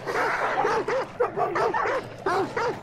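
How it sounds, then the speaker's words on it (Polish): Dogs in the video game Hunt: Showdown bark and yip repeatedly in quick bursts, loud and close, with no talk over them. "Zabawiamy się z psami."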